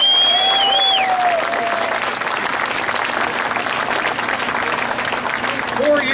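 Rally crowd outside Bill Foster's office applauding steadily throughout, loud and dense, with a few cheers and whoops rising over the clapping.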